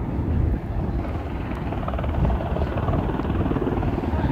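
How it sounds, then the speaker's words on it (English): Helicopters and planes circling above an erupting volcano in Iceland, a steady distant rotor and engine drone that stays loud and continuous throughout, with no talk over it. "Too many helicopters as always, and planes flying around."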